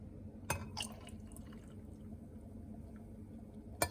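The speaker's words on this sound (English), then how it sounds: "now I'm gonna add my milk" Milk pours into a keto Starbucks-style drink in a glass, a faint close trickle and drip with a couple of light clinks of the container.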